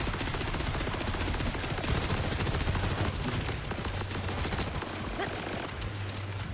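A Borderlands 4 enemy lays down dense, continuous gunfire and explosive shots, a loud unbroken barrage of rapid bursts filling the whole stretch.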